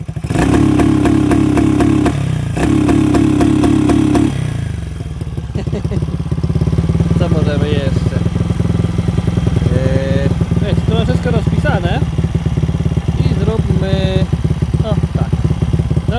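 Motorcycle engine fitted with an adjustable ignition cutoff module, revving hard against the limiter at about 4000 rpm in a loud, stuttering burst for the first few seconds, then settling into a steady idle while people talk over it.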